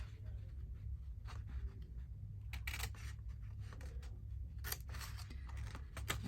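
Scissors snip through a folded sheet of paper while a paper bag is being made, giving two or three crisp cuts close by over a steady low hum.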